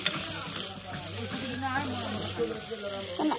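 Meat frying in a pan gives a steady, fairly loud broadband sizzle that runs unbroken through the whole moment, with a voice faintly audible underneath.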